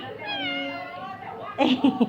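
A cat gives one drawn-out, wavering meow lasting about a second, close and clear. A person then speaks briefly.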